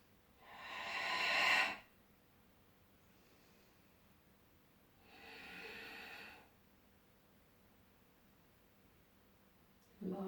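Slow, deep yoga breaths held in chair pose: a long audible exhale, then a softer one after a pause, and the start of a third, breathy and close against a quiet room.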